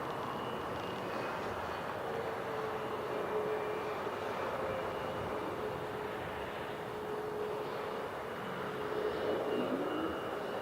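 Alaska Airlines airliner approaching to land at Portland airport, a faint distant jet rumble and whine that stays steady and low for the whole stretch, with no talking.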